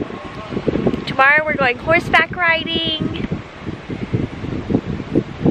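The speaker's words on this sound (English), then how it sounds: "It's windy." Wind blows outdoors at a ranch, gusty buffeting rumble on the microphone that runs throughout beneath a person talking.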